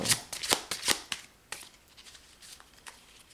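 Tarot cards shuffled for a reading, a quick run of crisp riffling bursts that fades into lighter, scattered card flicks, near and with no talk.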